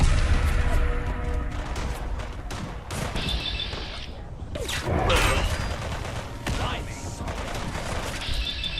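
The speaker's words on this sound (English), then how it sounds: "Ooh, someone's got a rocket launcher" Rocket launcher blasts and grenade explosions in Fallout London: repeated loud booms and crashes with scattered gunfire in a busy, continuous battle, with voices talking over the chaos.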